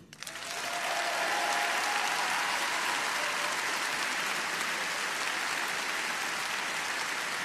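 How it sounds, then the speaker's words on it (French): At a political rally in Cannes, a large crowd bursts into applause that swells within the first second into a thick, roaring, sustained clatter of clapping. "Je veux que nous vous applaudissions."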